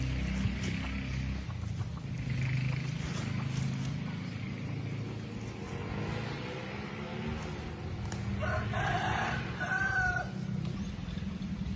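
Chickens cluck and a rooster crows at a moderate distance, under a steady low background hum.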